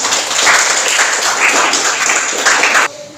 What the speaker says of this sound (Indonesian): Tepuk tangan untuk Mas Afan anak